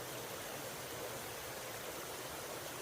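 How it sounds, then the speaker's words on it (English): A stream runs along a hiking trail on the Broad River Greenway, giving a steady, even rush of water that holds constant throughout without any voices. "You hear the water running in the background."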